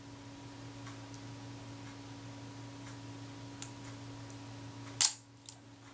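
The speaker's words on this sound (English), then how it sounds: "the shutter fired at the point that the film release second click would have happened" A Retina IIC camera shutter fires once with a sharp, close mechanical click, followed by a faint second tick, against a quiet background hum.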